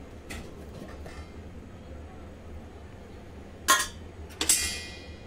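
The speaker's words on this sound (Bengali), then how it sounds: "বাটির ঢাকনা খুলে নিচ্ছি" A lid comes off a bowl of steamed hilsa fish, cooked in a pressure cooker, with two faint clinks of metal or glass near the end after quiet background noise.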